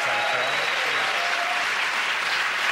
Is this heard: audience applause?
yes